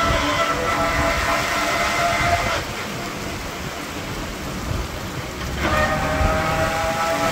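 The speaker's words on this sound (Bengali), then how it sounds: "এই যে বৃষ্টি নেমে গেছে" Steady rain falls over a Bangladeshi village, a dense broadband hiss that runs throughout, with harmonic tones swelling in at the start and end.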